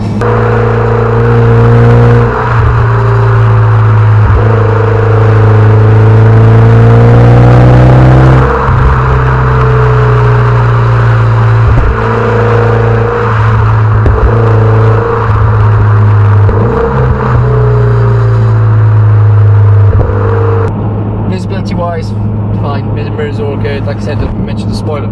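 Exhaust note of a 2011 Mitsubishi Evo X FQ300 SST with its turbocharged 2-litre engine, heard from inside the car as it accelerates hard through several gear shifts, the tone rising and dropping repeatedly, loud and close, with occasional talk over it.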